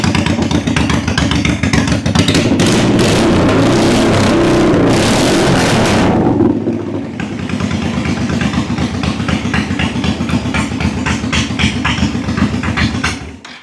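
Honda VT1100 motorcycle V-twin engine running loud and close, roaring for about six seconds, then dropping to a steady, lumpy idle that rumbles on until it cuts off at the end; no talking.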